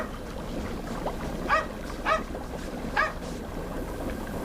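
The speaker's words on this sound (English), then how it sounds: "The dog. Why is it always barking?" A dog barks three times at a moderate distance over a steady background hum, the barks spaced irregularly across a quiet scene.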